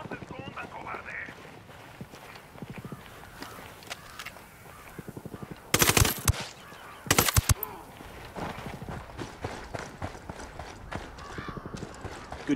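Two loud bursts of automatic gunfire crack out in Ghost Recon Wildlands, each about a second long and a second apart, over a steady bed of game ambience with soft footsteps and movement.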